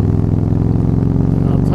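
A dyno-tuned Vaquero cruiser motorcycle engine thrums close and steady under riding in the Hudson River Valley, with a low, pulsing rumble throughout.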